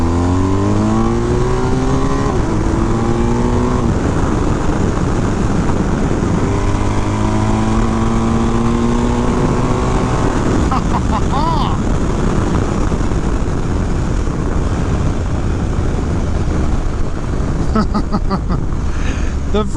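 A 2022 BMW R1250 GSA Adventure Rallye motorcycle launches and accelerates hard, its engine pitch climbing through several gear changes under loud, steady wind roar from the rider's position.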